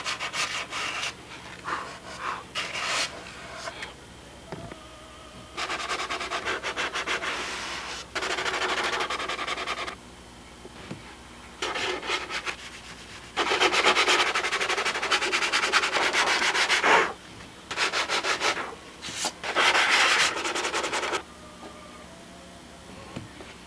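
Hardened epoxy on the nose of a model Spitfire is cut and sanded by hand, in repeated close scraping and rasping strokes that come in bursts of a few seconds separated by short pauses.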